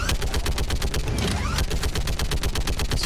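Rapid turret gunfire in Mass Effect 3, dense repeated bursts of shots close and loud throughout, with no pauses and no talk.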